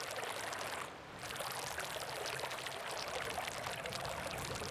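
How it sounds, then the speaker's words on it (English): A character swims through ink in Splatoon 3, making a continuous fizzing, bubbly rush much like soda being poured. There is a short dip partway through, and it stays close and steady with no talking. "it's like someone pouring soda is the sound of swimming through the ink"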